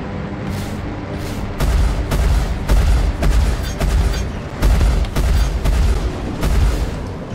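Spaceship weapons fire in the video game Star Citizen, a loud, continuous run of heavy booming shots in close, fairly rapid succession with dense rumbling low end throughout.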